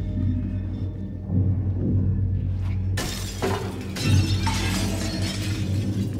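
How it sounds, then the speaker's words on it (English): A mirror shattering in the video game Little Nightmares: a loud sudden burst of breaking glass with a crashing second impact, over a low rumbling ambient drone. "I don't know what you shattering this mirror is going to have"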